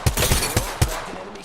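Gunfire in Call of Duty Modern Warfare 2, four sharp shots cracking in a quick irregular burst, close and punchy against a quieter game background.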